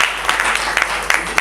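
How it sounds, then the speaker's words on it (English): An audience claps hands together in a steady patter of many palms, fairly close and continuous through the moment with a few louder bursts. "clap your hands"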